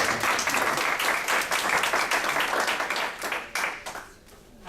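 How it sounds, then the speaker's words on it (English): Conference audience applauding at the close of a talk in Cornwall, dense steady clapping from a room of people that tapers off near the end. "Round of applause for the Wolves."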